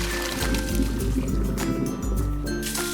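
Hot water is drained from a pot of blanched broccoli into a sink, with a steady gushing, splashing pour and a few sloshing pulses close by, without any talking.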